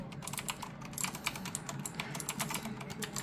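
Fast typing on a Razer BlackWidow V3 mechanical keyboard with green clicky switches, a dense run of crisp, close clicks and clacks with no talking.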